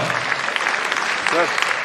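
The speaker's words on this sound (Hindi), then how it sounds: "जोरदार तालियां हो जाए रघुजीत सिंह के लिए" An audience applauds an award winner at a commemorative police ceremony, a steady patter of clapping under a voice speaking over it.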